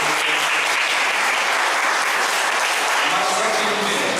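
A congregation at a Sunday evening Hindi church service breaks into loud, sustained applause, a dense steady wash of clapping filling the room without pause.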